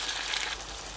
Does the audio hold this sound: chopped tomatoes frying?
yes